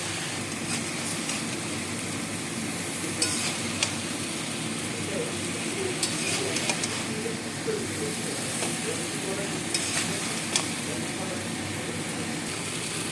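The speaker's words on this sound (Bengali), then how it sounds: "ভাজা হয়ে গেছে, মশলা বাটাটা দিয়ে দিলাম, লঙ্কার গুঁড়ো দিলাম" Vegetables fry in oil with ground spice paste and chilli powder for a Bengali fish-ball curry, a steady sizzling hiss running throughout with occasional clicks and scrapes of stirring and a voice speaking over it.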